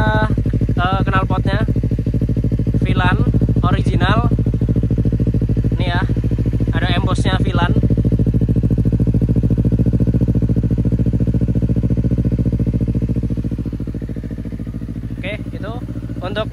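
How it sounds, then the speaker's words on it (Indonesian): A Honda CBR250RR 250cc sport motorcycle engine runs loudly and steadily throughout, with a voice speaking over it in short bursts; the engine drops slightly quieter near the end. "kalau misalkan kita mau cek sound juga bisa kita coba suara dari silinder VLAN tadi yuk"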